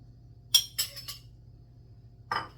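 Metal utensil clinks three times in quick succession against a cast iron pan while cooking honey garlic chicken, then once more after a pause, sharp and fairly close over a low steady hum.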